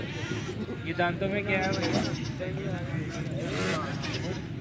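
Goats bleat at a busy goat market in Faisalabad, several wavering calls rising close by over steady crowd murmur and people talking throughout.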